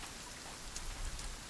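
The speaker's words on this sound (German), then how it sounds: "Wird ein schöner Strandspaziergang im Regen." Steady rain falls in the video game Sons of the Forest on a beach, a soft even patter of drops continuing throughout with no voices.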